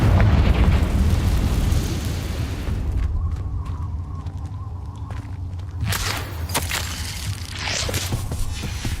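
A Confringo blasting spell in the Hogwarts Legacy video game sets off a loud, rumbling, broadband explosion that fills the first few seconds, then fades into quieter crackling debris and a second swell of noise.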